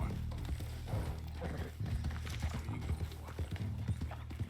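Horse hooves clip-clop in the Western video game Red Dead Redemption, a steady plodding rhythm with low rumbling, heard alongside a speaking voice.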